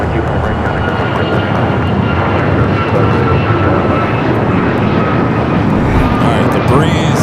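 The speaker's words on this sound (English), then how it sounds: "Number 2 for arrival on the north side, Japan Airlines flight 62, Kevin from Tokyo, Narita, the second Japan Airlines flight" A Japan Airlines jet arriving from Tokyo Narita at LAX roars loudly and steadily nearby as it comes in to land, with a voice talking over the engine noise.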